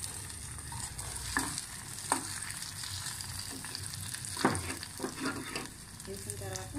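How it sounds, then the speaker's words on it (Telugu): Crushed onion and garlic frying in a hot oil tempering with crackling mustard seeds and dried red chillies, a steady close sizzle with scattered pops and stirring scrapes for a dal rasam. "ఆవాలు కొంచెం చిటపటలు ఆడిన తర్వాత అప్పుడు ఈ పచ్చ పచ్చగా దంచుకున్న ఉల్లిపాయ, వెల్లుల్లి వేయండి"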